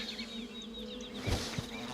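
Buzzing bees drone steadily in the background of the video game The Vale, with a couple of soft thuds partway through; no one speaks.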